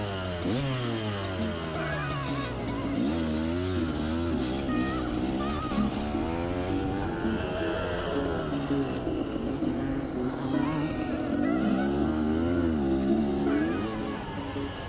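An enduro motorcycle racing a special stage at Granges-sur-Vologne in 2019, across a former cornfield with soft, treacherous ground. The engine revs steadily with its pitch rising and falling as the rider shifts and accelerates, at moderate distance throughout.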